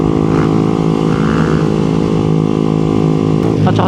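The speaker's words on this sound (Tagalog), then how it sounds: "At saka sumasakit yung ulo ko sa ingay ng pipe." A Yamaha Sniper 155 motorcycle with a loud aftermarket exhaust pipe drones steadily at close range, a constant buzzing engine note that stays loud throughout with a slight rise near the end.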